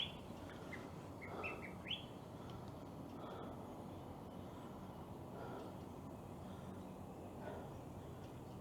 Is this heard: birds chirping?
yes